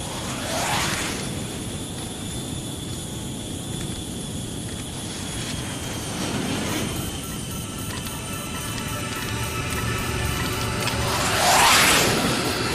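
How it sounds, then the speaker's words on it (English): A jet airplane flies past in a dramatic scene, with roaring engine noise sweeping in near the start, again around the middle and loudest near the end, over a steady rumbling hum. "No, Lance, the plane is flying!"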